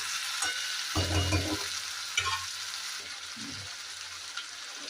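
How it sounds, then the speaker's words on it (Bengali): Potatoes sauté in oil in a pan for a Bengali-style chicken curry, a steady close sizzle with a few short bursts of stirring and scraping from a spatula. "আলুটা দিয়ে দিলাম, কিছুক্ষণ কষাবো।"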